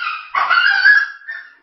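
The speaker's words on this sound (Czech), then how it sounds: "Mladík brutálně ubližuje svému psovi jen proto, že mu vylil nádobu s vodou." A young dog being hurt by a young man lets out a sharp, loud yelp, then a cut-off second cry that trails into a whimper. There is no talk.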